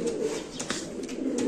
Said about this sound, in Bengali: ফিলিপাইনের কবুতর।